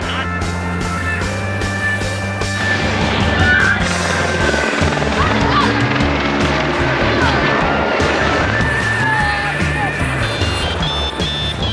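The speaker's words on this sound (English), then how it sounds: "The helicopters are flying" Loud, continuous roar of helicopters overhead at a bike race, a dense rumbling drone mixed with crowd noise and passing vehicles.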